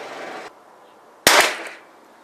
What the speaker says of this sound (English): I'm shooting a Gila rifle match.